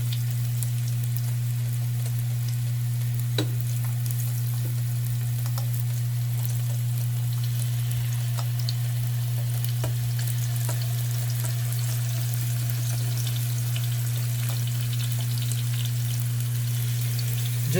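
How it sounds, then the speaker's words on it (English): Marinated pork searing in a hot pot, a steady dense sizzle and crackle with a constant low hum beneath, continuous and close with no talking. "We're just gonna give it a nice sear of our marinated pork."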